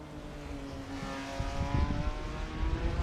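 A Ferrari Daytona racing in a sim-racing event at Kyalami, its engine droning with steady harmonic tones that build into a louder, rougher roar over a few seconds, heard alone without talk.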